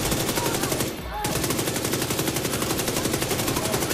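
Sustained rapid turret machine-gun fire in The Division 2, loud and continuous with dense repeating bursts, briefly dipping near the one-second mark before resuming.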